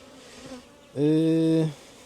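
Honeybees buzz loudly around an open hive during a queen check in a split colony, a sustained close drone rising suddenly and holding for under a second before fading, with soft background rustle before it.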